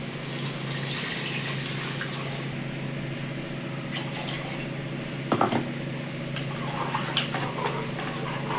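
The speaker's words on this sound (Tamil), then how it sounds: "இந்த அரிசிக்கு தேவையான அளவு தண்ணி ஊற்றிக்கலாம்." Water pours steadily into a pot of vegetable rice, a continuous splashing rush with a couple of clinks from the pot partway through.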